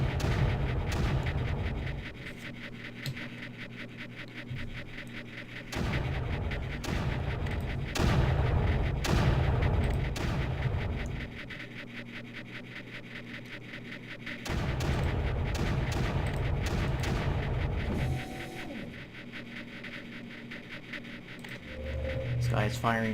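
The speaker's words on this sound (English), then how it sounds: "This guy is firing at nothing." Blaster fire in the strategy game Creeper World, repeated bursts of booming shots arriving in clustered volleys with quieter gaps between, loud and punchy, with talking running alongside.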